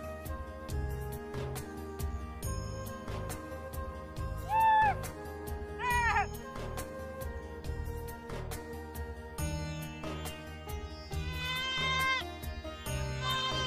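Horns blow in wavering, bleating tones over a steady clatter of metal plates being beaten, a busy distant celebration heard across open ground with overlapping hoots and rhythmic banging.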